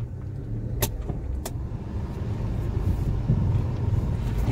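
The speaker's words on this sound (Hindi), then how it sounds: "तो अभी गाड़ी को रिवर्स गियर में भी डाल के चेक करते हैं हम" A Maruti Suzuki WagonR, just repaired for low pick-up with clutch work, rolls in reverse gear with a steady, close engine drone and a couple of sharp clicks near the start.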